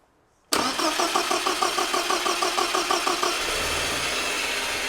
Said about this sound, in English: When the engine starts, stop pushing,